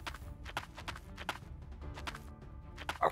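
Clip-clopping horse hooves from the Wild West Dynasty video game beat out a steady, close walking rhythm, each strike crisp and clear above quiet background ambience, with no voices.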